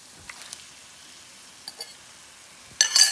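Herring pieces go into sizzling tomato paste in a pot for stew: a few faint ticks and soft stirring sounds, then a sudden bright hiss of frying near the end.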